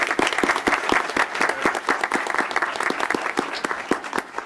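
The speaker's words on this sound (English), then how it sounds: "Let's give them a round of applause." An audience at a school board meeting applauds, a brisk, even spell of many hands clapping close by that holds steady throughout, with no talk over it.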